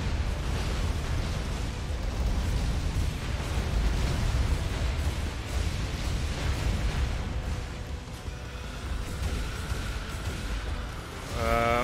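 Missiles explode in Hardcore Mecha as a dense, continuous roar of rumbling blasts and low booms, with a rising tonal whine near the end.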